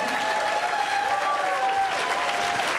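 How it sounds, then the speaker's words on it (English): A comedy club crowd at the Tempe Improv claps warmly and continuously for comedians, a full steady wash of applause with a faint murmur of voices underneath throughout. "A warm round of applause for every comic you saw, ladies and gentlemen."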